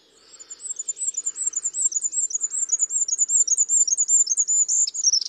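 A goldcrest sings a very high-pitched, rapid series of thin repeated notes, near and clear against a quiet background, ending in a quick flourish.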